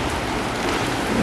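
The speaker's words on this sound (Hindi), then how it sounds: "इस वाली बारिश हो रही है।" Heavy rain pours steadily outdoors, a dense continuous hiss and patter with no pauses, fairly close and even throughout.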